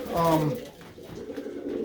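Pigeons cooing close by, a short low throaty coo followed by softer murmuring, with a voice faintly under it.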